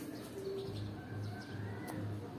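Birds coo softly near a cucumber garden, low dove-like calls repeating at a steady pace, with a few faint chirps over a quiet outdoor background.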